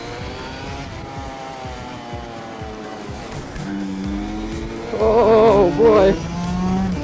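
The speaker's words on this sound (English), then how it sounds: "Now we're in a new kart, which has a much better gearbox. I could even flat shift now." A shifter kart with a sequential gearbox and moto tyres laps a large kart track, its high-revving engine whining through rapid upshifts and rising in pitch, loud and close, with tyre squeal and a brief exclaimed remark from the driver.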